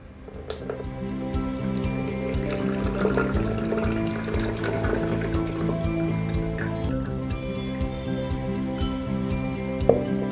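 Cocopeat slurry is gently poured through a filter into a mug, giving soft, continuous liquid trickling and dripping with faint splashes, set against a steady background of tonal hum.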